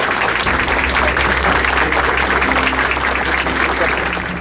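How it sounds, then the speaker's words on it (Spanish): Loud, dense applause fills a hall after a council member is elected, sustained and even from start to finish. "El aplauso le devolvía la gloria que hasta entonces le había sido esquiva."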